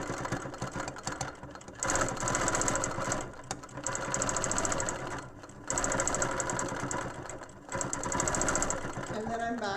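A sewing machine stitches a quilt along a Hexie Duet quilting ruler in three long, loud runs with brief pauses between them, its rapid mechanical chatter close and steady.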